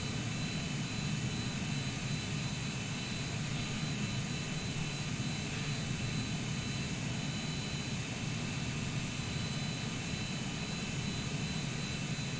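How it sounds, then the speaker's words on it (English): A Cessna CJ4 jet's engines hum in a steady, broad whooshing drone inside Flight Simulator 2020 as the aircraft descends, a constant cockpit-level roar with no talking. "Sound of the engine spooling down to descent,"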